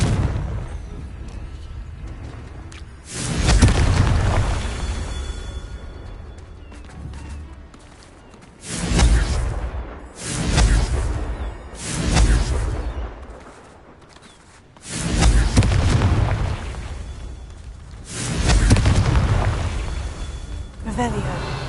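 Confringo fire spells burst in Hogwarts Legacy, a run of heavy booming blasts at irregular intervals with rumbling tails, loud and close, amid game sounds and music.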